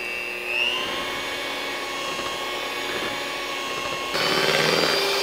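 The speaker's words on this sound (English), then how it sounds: "just kind of blend the cream cheese with the erythritol and do it in steps" An electric mixer whirs steadily, blending cream cheese with erythritol for a chocolate toffee cheesecake, a loud continuous motor drone that grows louder and harsher near the end.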